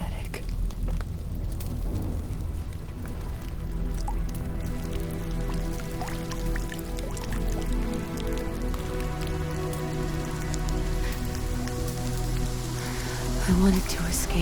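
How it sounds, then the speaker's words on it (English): Steady rain falls throughout a video game cutscene, a dense, even patter of drops and drips on surfaces with a low tonal music bed underneath, continuous and moderately loud without letup. "Is this rain?"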